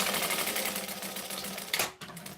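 Sewing machine stitching fabric, a rapid, steady mechanical whirring chatter that runs close and moderately loud before stopping abruptly near the end, with no talking.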